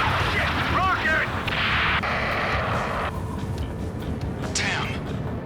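A rocket attack during a rescue mission in the video game Ace Combat 7 near a harbor: loud, booming blasts and rushing roars overlap, with radio voices talking over the din throughout.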